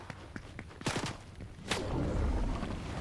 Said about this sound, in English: I'm gonna run towards the gunshots